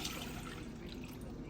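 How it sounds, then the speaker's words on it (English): Water poured into a rice pot in a home kitchen makes a faint, steady trickle and splash, heard alone without talk. "so I'm gonna go ahead and pour my water in there."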